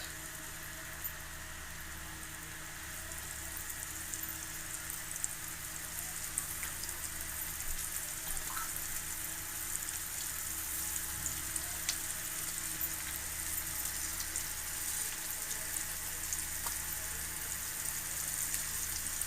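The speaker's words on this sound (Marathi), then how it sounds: "इथं तेल टाकते त्या तेलात चरचरीत तेलात तुकडं घेऊया भाजून तर टाक" Coated halva fish pieces frying in hot oil, a soft continuous crackling sizzle with tiny pops throughout, fairly quiet and steady, no talking.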